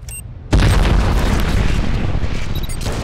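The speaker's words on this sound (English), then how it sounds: "Detonate the charge." A C4 charge detonates near a car in the video game Crysis: one sudden, loud, close blast after a short quiet lead-in, then a heavy rumbling roar that stays strong for the rest of the moment.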